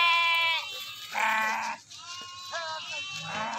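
Sheep in a flock moving off in a line bleat repeatedly, several overlapping close calls with brief quieter gaps between them.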